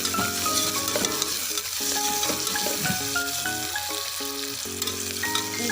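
Onions fry steadily in a pan with a continuous close sizzle and occasional stirring, while melodic background music plays throughout.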